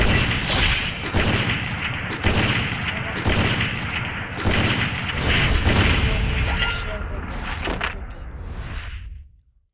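Rapid bursts of gunfire from a first-person shooter game, repeated loud volleys with mechanical clacks between them, fading out at the end.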